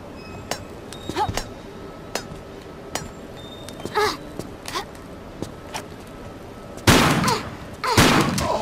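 Gunfire aimed at an enemy in a Tomb Raider custom level on an offshore rig, heard as a scatter of sharp, clinking game shots at irregular intervals, closing with two louder, fuller bursts near the end.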